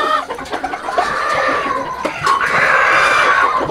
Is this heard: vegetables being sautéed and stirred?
no